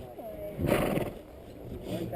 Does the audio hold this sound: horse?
yes